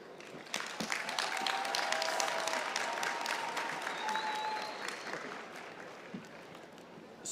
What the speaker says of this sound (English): Let us take a moment and have some applause for the class of 2026.